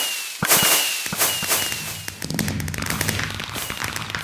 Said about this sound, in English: it has a mix of different fireworks, and it's actually set up to fire each one.